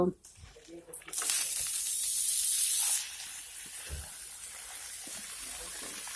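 Fresh spinach dropped into hot oil in a pan with fried lentil dumplings, giving a loud burst of sizzling and spitting that settles into a steady, softer frying hiss.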